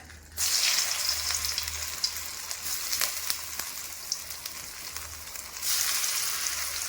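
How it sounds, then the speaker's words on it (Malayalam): Snacks crackle and hiss vigorously as they deep fry in coconut oil, a close, bubbling sizzle with scattered pops and a brief quieter moment near the start. "വെളിച്ചെണ്ണ ഉപയോഗിച്ചാണ് ഞാനെല്ലാം വറക്കുന്നത്."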